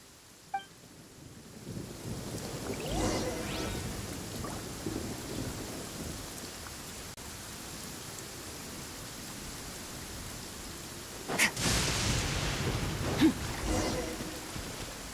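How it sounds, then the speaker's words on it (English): Rain hisses steadily through a lightning storm in the video game Genshin Impact, with a sharp crack of thunder near the end followed by a rolling rumble over the downpour. "Uh-oh! Lightning storm!"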